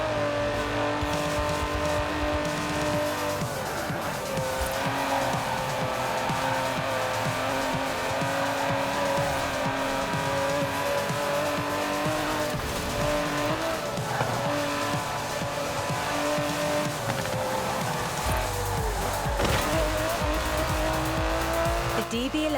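Aston Martin DB11 racing in Forza Horizon 4, a steady engine drone with rising and falling revs and bursts of tire squeal and skidding, close and loud throughout while someone talks over it.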